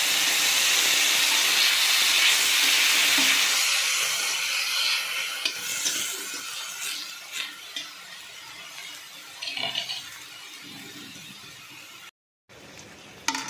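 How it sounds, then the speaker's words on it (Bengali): Mutton fat hisses and sizzles steadily in a hot, dry wok, loud and close at first and gradually easing. A brief drop-out comes near the end, and no voices are heard. "এবার কড়া বসিয়ে দিয়েছি, কড়াটা কিন্তু গরম হয়ে গেছে। এবার চর্বিটা ওই কড়ার উপরে দিয়ে দিলাম।"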